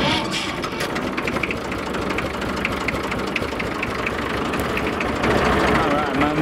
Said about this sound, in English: All right, my machine is idling.